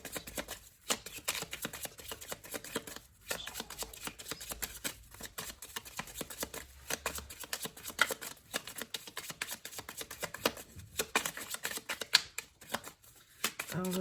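A petit Lenormand deck of cards is shuffled by hand, giving repeated crisp bursts of riffling and slapping separated by short pauses, fairly quiet and close.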